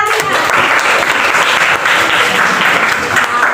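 Children in a classroom give a sustained burst of applause, steady dense clapping from many hands close by for the whole moment, with no talk over it.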